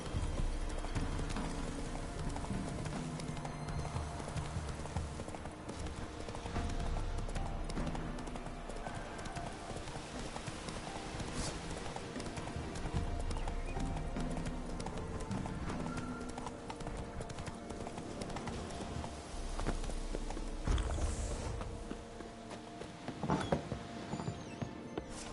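Roach, Geralt's horse in The Witcher 3, galloping along with a dense, unbroken run of hoofbeats clip-clopping at a steady pace over continuous game ambience.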